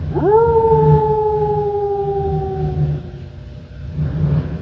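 A family dog lets out one long, sustained howl that rises quickly and then holds a steady pitch for over two seconds before fading, loud and close, with no voices.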